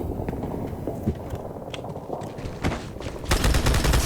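Rapid automatic gunfire bursts crackle through a firefight in the video game Halo 2, with dense rattling shots throughout and a louder burst near the end, and no speech.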